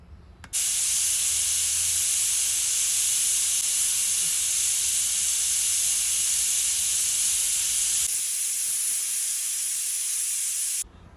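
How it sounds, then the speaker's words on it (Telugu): A pressure cooker cooking tamarind-leaf dal lets off steam in a loud, steady hiss that runs for about ten seconds, then cuts off abruptly. "ఇప్పుడు మనం మూత పెట్టేసి ఒక 3 విజిల్స్ రానిద్దాం."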